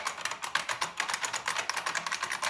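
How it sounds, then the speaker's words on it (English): Rapid, steady keystrokes clatter on a loud, clicky buckling spring USB keyboard hooked up to a ThinkPad T60, each key giving a sharp, close-up snap with no talking. "You can hear the loud clicky buckling spring keys"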